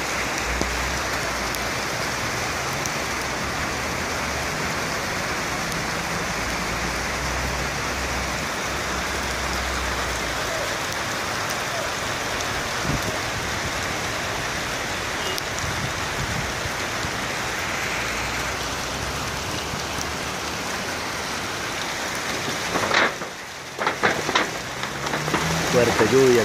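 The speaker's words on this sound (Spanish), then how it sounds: "Fuerte lluvia acá en Siloé." Steady heavy rain in Siloé, Cali, Colombia, hisses across the whole clip as a dense, unbroken wash, with a brief louder clatter of drops and rustling near the end.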